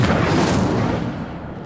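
A fire spell is cast in the wizarding video game Hogwarts Legacy, giving a dense, booming burst of roaring noise that swells at the start and slowly fades over under two seconds, with no speech.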